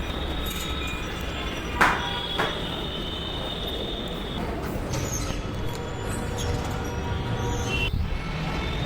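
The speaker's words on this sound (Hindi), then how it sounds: "मैं ब्लू लाइन से जा रही हूँ क्योंकि वो मुझे पास पड़ेगी।" A Delhi Metro Blue Line train rumbles steadily, heard from inside or on the platform, with a faint high whine, a couple of brief clanks and continuous rail noise throughout.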